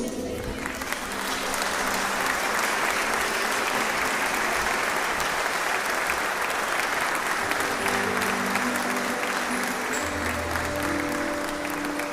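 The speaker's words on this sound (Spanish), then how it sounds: "Le brindamos un fuerte aplauso." A crowd at a local public event gives long, sustained applause, thick and even throughout, with faint voices mixed in underneath.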